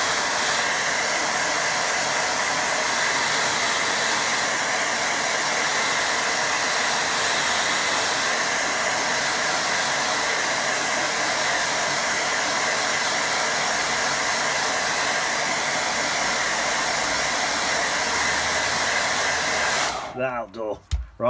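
A hair dryer blows steadily and loudly over a watercolour painting of pine trees for about twenty seconds, then cuts off with a few handling knocks.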